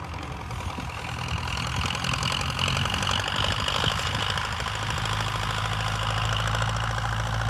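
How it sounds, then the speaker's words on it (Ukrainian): A tractor engine runs steadily while sowing Kansas soybeans with a three-meter Hassia seeder, giving a continuous close mechanical drone with rattling, knocking texture that grows a bit louder and rougher after the first second. "Ну і ми з цим трактором сіємо."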